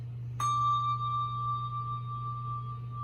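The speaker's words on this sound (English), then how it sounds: "You ring it and move it in a clockwise or counterclockwise motion. This creates a vibrating or vibrato sound." A handbell is struck once and then swirled in a circular gyro motion, leaving one clear, sustained ringing tone that fades slowly over a low steady hum.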